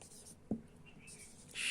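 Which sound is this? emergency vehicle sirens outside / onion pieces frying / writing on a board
writing on a board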